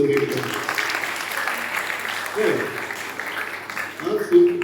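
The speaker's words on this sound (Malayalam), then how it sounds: "ഒരു കയ്യടി ഒന്നും കൊടുത്ത്" An audience at a school youth festival gives a guest a round of applause, a steady wash of clapping under an announcer's amplified voice in a hall.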